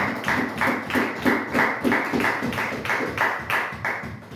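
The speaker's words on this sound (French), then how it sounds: "On acclame très fort le Seigneur Jésus." A church congregation claps loudly in steady rhythmic unison, about two claps per second, filling the hall with continuous applause and no talking.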